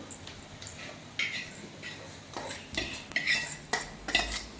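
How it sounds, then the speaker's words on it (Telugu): A spoon scraping and clinking against a metal pot in irregular strokes as tempering is mixed into uggani, close by and fairly quiet, with no talking. "వేసేసి మనం ఇలా మిక్స్ చేసుకోవడమే"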